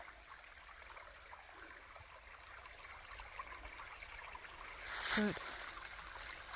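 A forest creek trickles steadily beneath a fallen tree, a soft continuous wash of running water with a brief closer splash near the end and a single spoken word over it.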